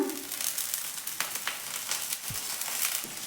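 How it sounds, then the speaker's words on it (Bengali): Ginger garlic paste fries in a pan with chopped chili, a steady close sizzle with scattered crackles and a few soft scraping touches. "এটাকেও এর সাথে খুব ভালো করে ভেজে নেব আদা রসুনের কাঁচা গন্ধটা যাওয়া পর্যন্ত"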